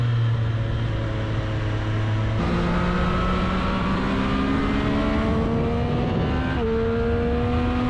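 A 2023 Triumph Street Triple 765 RS motorcycle engine running at slow road speed, giving a loud, steady droning hum whose pitch steps upward a few times as it pulls along, with no talking.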